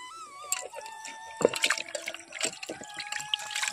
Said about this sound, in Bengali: এই কারণে এখানে এখন জল দেব